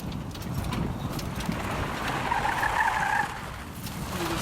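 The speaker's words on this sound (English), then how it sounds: "Oh, good skid, good skid for good recovery." Tires squeal in a rising skid from a 2008 Ford Explorer or 2006 Honda Ridgeline in a slalom driving test, a drawn-out screech over engine noise that cuts off abruptly.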